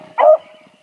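A big puppy with webbed feet gives a single short, loud, close bark, sharp and brief, followed by quiet.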